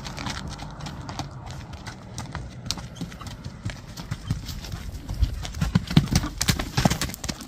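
A horse walks on hard ground, its hooves clip-clopping in a steady, close rhythm that grows louder and busier toward the end, with a brief whinny-like sound mixed in.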